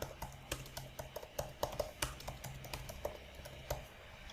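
Keys clack on a computer keyboard in irregular bursts of quiet, close taps, with short pauses between the runs of typing.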